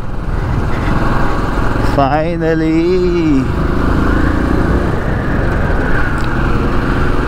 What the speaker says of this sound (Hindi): भाई अपने पास बाइक थी सो हम बाइक पे निकल पड़े